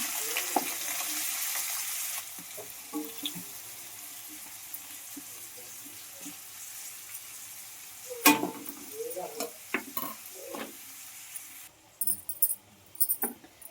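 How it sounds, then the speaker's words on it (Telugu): Onion pieces frying in a pan for chicken curry, with a loud sizzle at first that settles into a quieter hiss, broken by clinks and scrapes of stirring toward the end. "ఉల్లిపాయ ముక్కలు అయితే వేస్తున్నాం"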